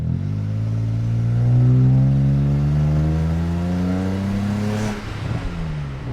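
BMW 335i with a suspected misfire and boost leak, its engine revving up into boost with a strong, rising harmonic drone that holds loud and steady before dropping off abruptly near the end.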